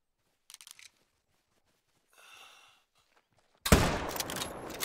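A rifle fires at a deer in theHunter: Call of the Wild with a single loud, sharp crack that rings out, preceded by quiet clicks and a soft rustle.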